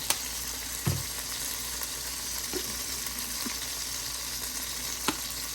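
Fish, rice and broccoli frying in a skillet, a steady close sizzle with a few soft clinks of a utensil stirring.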